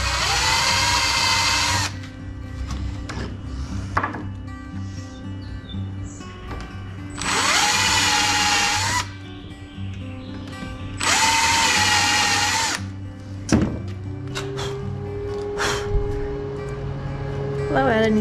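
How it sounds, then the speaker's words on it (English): Power drill boring small pilot holes in a cabinet toe kick in a van build, three separate high whirring bursts of a couple of seconds each, with a person talking between them and faint workshop clatter. "I'm doing a little tiny pilot hole for these, smack in the center."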